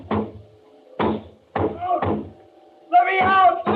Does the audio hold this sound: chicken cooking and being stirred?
no